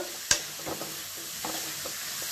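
Grated cabbage is stirred into rice in a frying pan, a steady soft sizzle underneath a sharp spatula scrape near the start and a few lighter stirring scuffs after, close and fairly quiet.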